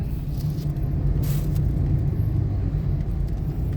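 A motorized tricycle rumbles past on a road in Laguna, a steady low engine drone close by that stays fairly loud throughout, with faint traffic sounds mixed in.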